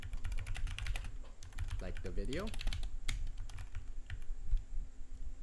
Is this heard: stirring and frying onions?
no